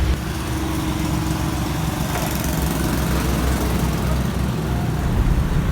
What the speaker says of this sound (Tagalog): knocking na po yung makina niya